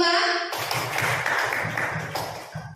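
A group of teachers clapping together in a counting clap game at a junior high school gathering. A voice speaks first, then a burst of close, uneven group clapping follows with faint talk.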